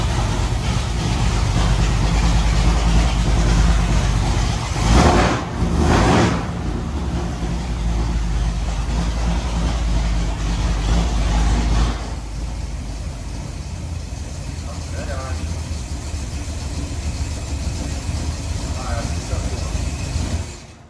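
After a carburettor adjustment during an engine running-in check-up, the engine idles with a steady low rumble close by, a couple of louder bursts near the five-second mark, then a quieter idle, with speech at times.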